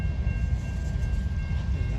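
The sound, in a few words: old CSX Geep diesel locomotives switching railcars at interchange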